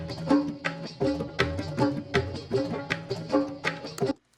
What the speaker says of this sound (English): we're just gonna drag in this ethnic drum loop